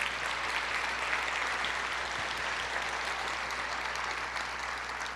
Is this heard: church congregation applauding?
yes